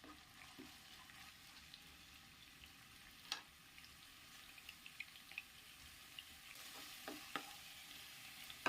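Ginger and garlic frying in leftover oil on high flame while beef chilli is being made, a faint continuous sizzle with occasional light stirring clicks and scrapes, heard alone.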